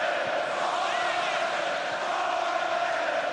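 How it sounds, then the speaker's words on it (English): Borussia Mönchengladbach supporters chant at a football match against Bayer Leverkusen, a dense, steady roar of massed voices carried at distance without break. "Borussia Mönchengladbach supporters are renowned for having very loud and strong voices"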